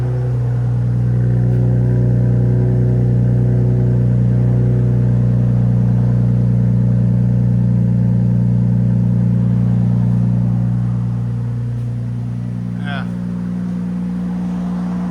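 A 2026 RAM 1500 with the 3.0L Hurricane inline-six and a Flowmaster Super 10 exhaust, resonators removed, rumbles loud and steady at a held rev before easing back toward idle, with voices talking over it.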